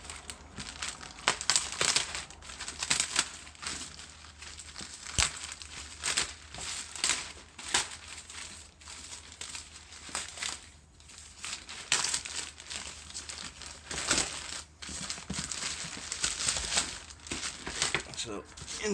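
A large plastic bag crinkles and rustles during the unboxing of WLtoys A959 and A979-B remote-control cars, with irregular bursts of crackling close to the microphone throughout and speech occasionally heard.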